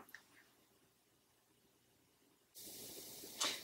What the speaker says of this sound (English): I'm going to give that a spray.